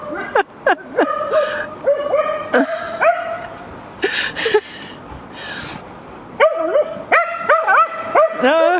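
A small dog yaps repeatedly in quick, high-pitched bursts, close and loud, with whiny yips between barks and a brief quieter gap midway.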